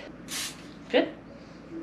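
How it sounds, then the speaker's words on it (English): Two short hissing bursts of aerosol cooking oil spray over frozen corn dogs and cod in an air fryer, close by, with a faint voice-like sound between them. "I need to use a little spray."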